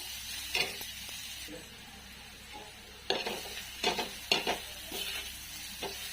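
Onion frying until reddish-brown in a pan over a village wood-fired stove, with intermittent scraping stirs and sharp clatter bursts over a low, steady sizzle, close and moderately loud with no talking.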